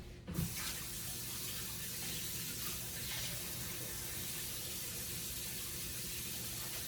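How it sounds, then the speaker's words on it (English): Water runs steadily from a sink tap as hands are washed, a constant close rushing stream with no talking. "I'm gonna wash my hands real quick."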